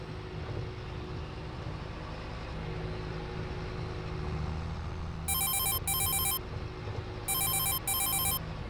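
Telephone ringing inside the farming game Farming Simulator 22, two pairs of bright electronic rings over a steady low engine drone, with no talk during the rings.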